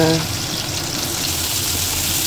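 Ginger and onion sautéing in a pan give a steady, even sizzle of frying at close range that holds constant throughout, with a brief low tone at the start.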